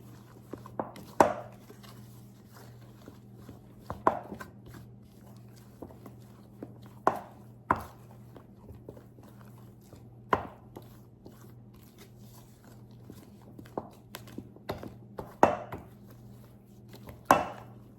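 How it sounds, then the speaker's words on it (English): Puff puff batter made with condensed milk and eggs gets a final mix by hand: quiet, irregular knocks and clacks of a spoon against the bowl every few seconds over a low steady hum. "So now I'm going to give it one last mix."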